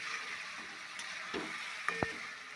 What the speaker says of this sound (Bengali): ততক্ষণ আমরা এটাকে ভালো করে কষে নেব